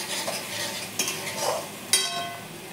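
Spices and turmeric stirred in a pan with a spoon scraping, under a soft sizzle, with a few sharp utensil clinks against the metal.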